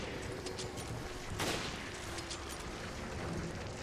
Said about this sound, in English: shoot this one in the mouth with the sniper